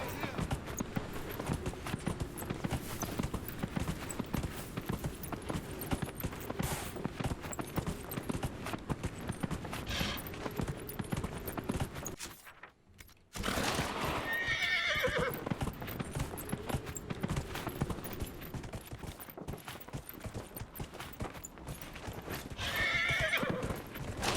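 Horse hooves galloping in Dragon Age Inquisition, a rapid continuous clip-clop that runs close and steady, pausing briefly midway, with occasional neighs and a person talking over it.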